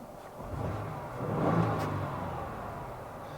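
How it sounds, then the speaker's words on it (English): A Ford Bronco Raptor engine revs up once, swelling to a peak and easing back into a steady low rumble. "Give it a couple of revs."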